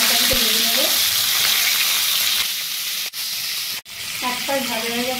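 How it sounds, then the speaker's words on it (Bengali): A hilsa fish head coated in salt and turmeric fries in hot oil with a loud, continuous sizzle, broken by two brief sharp cuts, while a voice speaks faintly at the start and end. "ইলিশ মাছের মাথা দিয়ে কচুর শাক করার জন্য আমি মাছের মাথাটা ভেজে নিচ্ছি।"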